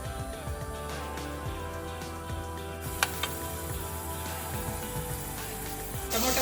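Chopped tomatoes fry in a pan for soya rice, giving a continuous close sizzle and crackle like light rain, with a brief sharp tap near the middle and a louder burst of hissing at the end.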